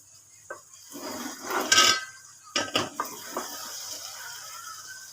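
Lid lifted off a pot of okra and onion curry cooking in ghee, a few close metallic clanks and scrapes of lid and utensil against the pot, with a faint hiss between.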